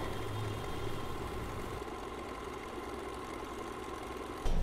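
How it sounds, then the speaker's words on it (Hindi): A Usha Janome Stitch Magic sewing machine runs a triple-thread stitch with a steady, low motor whir and faint rapid needle rhythm, briefly louder at the very end. "अब देखिए हम A पर सिलाई करेंगे।"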